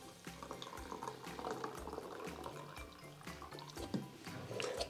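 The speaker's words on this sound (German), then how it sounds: "ich tue das als erstes mal noch ein bisschen abgießen in eine, so einen Messbecher oder in eine Schale" Cooking water is poured off boiled peas into a measuring cup in a kitchen. The liquid splashes and trickles quietly but steadily, with small gurgles and drips.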